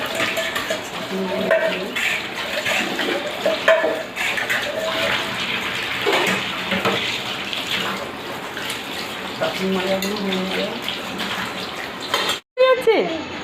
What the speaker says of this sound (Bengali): বাসন মাছছি